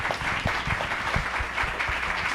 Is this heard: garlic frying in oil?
no